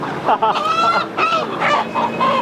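Live chickens at a market give off repeated squawking, honk-like calls, several overlapping cries close by and fairly loud, with no talking.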